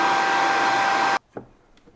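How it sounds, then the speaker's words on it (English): A hair dryer blows loudly with a steady whirring roar, then switches off abruptly, followed by a couple of faint clicks. "Use your hairdryer for that."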